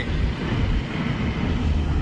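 A low, continuous rumble and rattle of a Konkan Railway train rolling past nearby, steady and loud for the whole moment with no speech.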